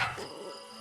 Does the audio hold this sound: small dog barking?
yes